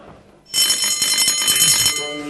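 A loud electronic buzzer sounding at the end of a round in a boxing match, a sudden sustained bright tone after a short quiet moment, alone without talk.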